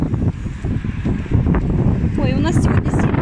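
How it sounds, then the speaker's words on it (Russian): Strong wind blowing outdoors in a park, a steady broadband rumble buffeting the microphone throughout, with brief voices and a high squeal near the end. "Ой, у нас сегодня сильный ветер"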